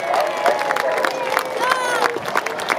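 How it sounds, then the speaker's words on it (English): An outdoor crowd at an airshow claps and cheers after a parachute display team's stack formation, steady spread-out applause mixed with murmuring voices and distant background sound. "Give them a round of applause"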